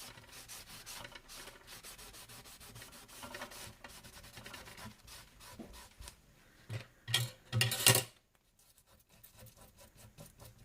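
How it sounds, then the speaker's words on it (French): Paper being wiped with a cloth to clear glue traces from a Christmas scrapbook collage, heard as a soft, steady rubbing close by that ends in a few louder, brisk strokes before quiet. "On essuie tout de suite nos traces de colle."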